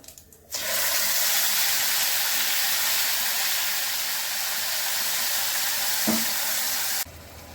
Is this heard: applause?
no